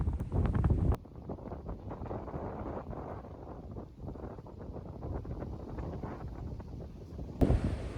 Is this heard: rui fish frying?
no